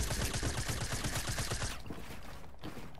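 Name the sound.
gunshots in the video game Fortnite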